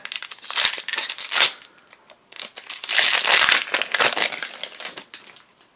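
Crinkling foil wrapper of a Magic: The Gathering Dragon's Maze booster pack being torn open, loud and close, with two long bursts of crumpling separated by a short pause, no talking.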